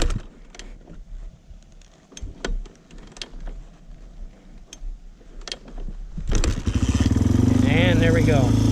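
Old carbureted air-cooled dirt bike kick started from cold on half choke: several kicks and clunks under talking, then the engine catches and runs loudly near the end.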